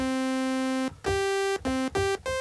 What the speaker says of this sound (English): we get to the sawtooth waveform, and this sounds like this